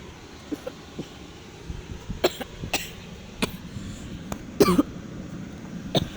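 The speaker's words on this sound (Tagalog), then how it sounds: "Sorry guys, umubo po kasi ako eh." Several short, sharp coughs and throat-clearing bursts come at irregular intervals over a quiet, hissy background, with one louder cluster near the end.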